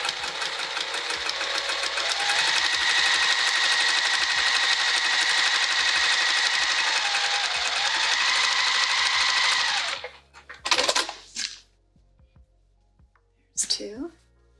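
Sewing machine quilting through several layers of fabric, a loud steady rapid whir for about ten seconds before stopping, followed by a couple of brief scraping handling sounds.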